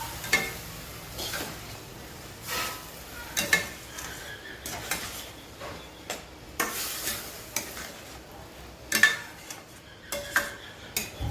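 A spoon stirs tomatoes into masala in a pan for Mumbai-style masala pav, making irregular scraping clinks against the metal over a soft sizzle, with no one talking.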